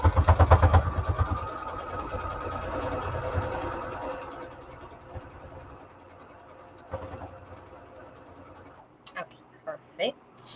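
A sewing machine runs in a short burst as fabric strips for a string quilt are stitched together, a busy mechanical whir that fades to quieter handling noise, with a few sharp clicks near the end.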